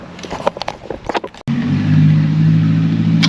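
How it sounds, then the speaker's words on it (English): A Chevrolet Corvette C5 engine cranks and catches after a short stretch of handling noises, then settles into a loud, steady, close idle rumble that runs to the end. "Let me turn the car back on to see if it'll do what it was doing."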